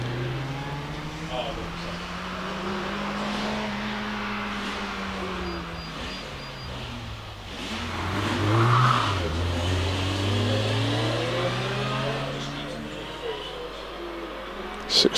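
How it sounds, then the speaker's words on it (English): MG TF 160 sports car engine revving up the Prescott hillclimb, rising and falling through gear changes and growing louder midway, with a commentator talking over it. "Robin Davison is also on the hill, coming up towards Ettores in the MG TF 160."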